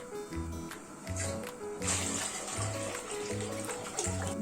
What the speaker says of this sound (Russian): Выливаем воду.